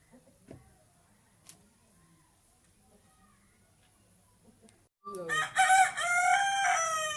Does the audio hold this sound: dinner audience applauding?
no